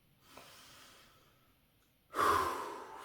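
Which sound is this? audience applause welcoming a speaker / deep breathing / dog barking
deep breathing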